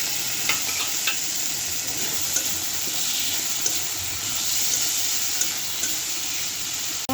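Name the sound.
frying tomato with ginger and garlic paste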